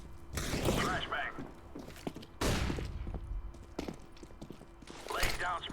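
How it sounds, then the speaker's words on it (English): Flashbang grenade in Counter-Strike on the Overpass map: several sharp bursts and thuds amid game gunfire and footsteps, with a player talking over the action. "Throwing flashbang."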